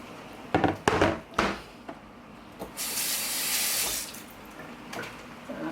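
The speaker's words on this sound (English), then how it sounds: "I'm going to add some water to this" Water splashes and sloshes in short bursts into a cooking pot, then runs in a steady hissing pour for about a second before a few softer drips and clinks.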